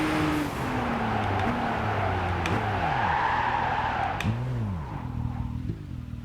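Car tires skidding and squealing under hard braking in Gran Turismo 5, several drawn-out screeches over a steady engine drone with gear-shift pitch changes, close and fairly loud.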